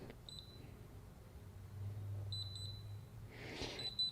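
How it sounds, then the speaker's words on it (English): A fingerprint smart lock sounds short, thin electronic beeps: one brief beep, then a quick run of three, then another after a soft rustle, all faint against low background hum. "And when you hear one beep, that's good."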